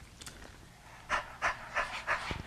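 A person pants rhythmically with the tongue out like a puppy, four quick breathy bursts in a row, close and clear in a quiet room.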